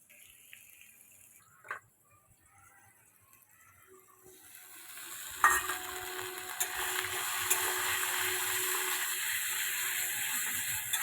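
Green chili paste hitting a hot pan on a home cooking stove, a quiet start and then, after about four seconds, a sudden loud wet sizzle that keeps up as a steady broad hiss to the end.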